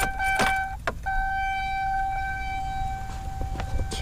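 A car's electric fuel pump whirs steadily during a fuel system test, a near, continuous tonal hum with a brief interruption near the start before running on to the end.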